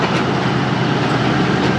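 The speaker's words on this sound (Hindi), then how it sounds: "वैसे ही ट्रेन चल रही है।" A Sialkot Express train, the 171-Up from Lahore to Sialkot, rumbles steadily along the track, a loud continuous roar with faint wheel clatter and no break for the whole short stretch.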